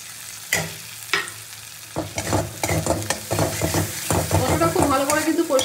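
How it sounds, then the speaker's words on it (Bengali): Chilli paste and ground cumin fry in a pan for a spiced prawn curry, with a loud, close sizzle under repeated scraping and stirring strokes of a spoon that speed up into busy, rhythmic mixing. "মশলাটা খুব ভালো করে কিন্তু কষিয়ে নিতে হবে।"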